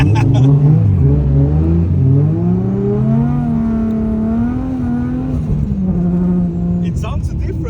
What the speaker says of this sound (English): It sounds different with the Titan exhaust.